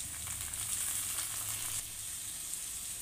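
Onions and tomato sizzle steadily in a pan while being stirred, a close, continuous frying hiss with faint scraping, no voices.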